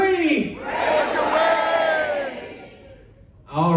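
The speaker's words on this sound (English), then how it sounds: "on the count of 3, we're going to say breakaway" A crowd of people on a Norwegian Cruise Line Breakaway ship shouting "Breakaway" loudly in unison, one sustained drawn-out cheer that fades, then a voice starts speaking.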